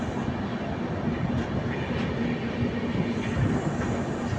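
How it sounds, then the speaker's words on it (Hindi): Vidarbha Express train, Gondia–Mumbai, rolling into the large Bhusawal Junction station, a steady loud rumble of wagons and wheels with faint clacking throughout, no talk. "भुसावल स्टेशन पे हमारी ट्रेन एंटर होती है।"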